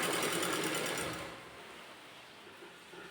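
A sewing machine stitches a net fabric kurti neckline, its fast steady mechanical chatter running close and continuous, then easing off into a softer, quieter hum.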